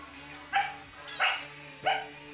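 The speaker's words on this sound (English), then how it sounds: "The dog is taking watch." A dog keeping watch at a homestay with an orchid garden barks three times at even intervals, moderately close, over a low steady background hum.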